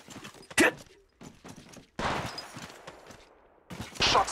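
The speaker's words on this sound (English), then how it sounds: "Shots fired at me." Gunshots from an Apex Legends battle royale match on Kings Canyon come in separate sharp bursts among quieter game sounds. The shots are fairly faint overall, with short bangs spaced across a few seconds.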